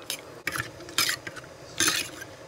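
Scraping, swishing strokes of a utensil stirring ragi flour into water in a bowl, several uneven bursts close by with no talking.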